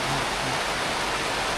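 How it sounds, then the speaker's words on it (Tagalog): Rain falling on a garden, a dense, even hiss of steady downpour that fills the whole moment close and loud, with no voices over it. "Yan ang blessing, ulan."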